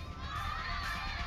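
A crowd of children shouting and cheering on being handed Operation Christmas Child gift boxes, a dense, steady roar of voices, faint and slightly distant, heard through playback.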